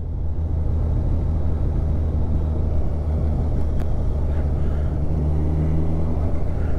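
A 2020–2021 Kawasaki Ninja 1000SX motorcycle rolls along with a constant low engine drone and rumbling wind, throttle held gently with slight rises and dips, loud and close throughout.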